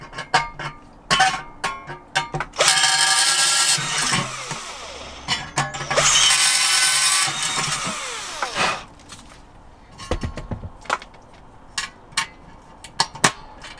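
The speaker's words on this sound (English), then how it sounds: "that is a 4mm drill. I'll try with the 4mm first." A power drill with a 4mm bit bores holes for rivets in two loud whirring bursts of a few seconds each, separated and surrounded by clicks, clanks and handling knocks.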